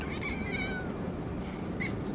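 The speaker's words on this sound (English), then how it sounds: "I caught a kitty cat." A pet kitty cat meows close by, a short rising-and-falling cry followed by a brief second chirp, over a low steady background hum.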